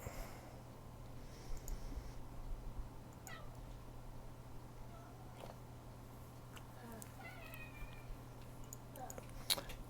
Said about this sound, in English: my cat's so loud